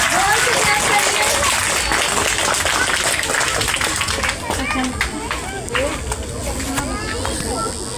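Children and audience at a Republic Day school function clap loudly and steadily throughout, a dense crowd of claps mixed with voices and general hubbub.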